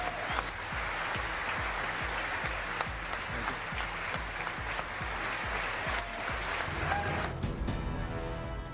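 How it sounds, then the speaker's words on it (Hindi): Members of the US Congress applauding a speech in the chamber, sustained dense clapping that holds evenly throughout, with a regular low thumping running under it. "अमेरिकी कांग्रेस के स्पीकर और सांसद तालियां बजाकर बढ़ाया उत्साह"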